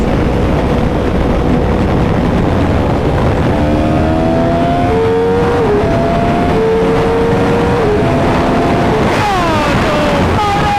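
A 2015 custom Yamaha R1M sport motorcycle accelerates hard from the rider's position, its engine note climbing through several rising gear pulls with wind rush throughout, loud and continuous.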